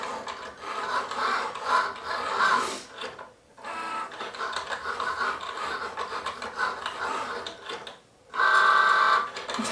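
A Cricut Joy cutting machine cuts an insert card, giving a steady, close mechanical whir and rasp that runs on with short pauses as the carriage moves back and forth.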